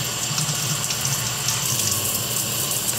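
Water runs steadily from a tap into a sink for something being rinsed off, a loud, continuous close-up splashing rush with no talking.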